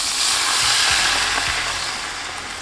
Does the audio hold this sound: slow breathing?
no